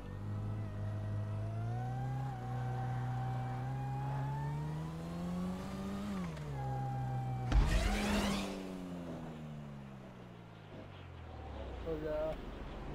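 A video game car engine revving and shifting, rising and falling in pitch under talk, with a sudden loud burst partway through before the engine settles lower.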